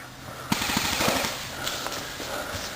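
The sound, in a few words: airsoft gun shots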